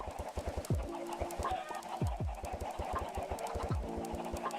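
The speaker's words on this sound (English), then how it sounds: "How many more chickens do you fucking need, bro?" Chickens cluck in a leaf blower video game: several short, pitched clucks at irregular intervals over a steady bed of rhythmic ticking game sounds, with no speech.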